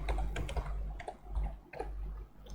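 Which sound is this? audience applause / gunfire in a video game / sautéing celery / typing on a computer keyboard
typing on a computer keyboard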